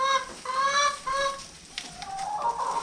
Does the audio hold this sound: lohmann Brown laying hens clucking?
yes